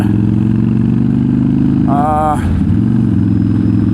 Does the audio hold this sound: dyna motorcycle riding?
yes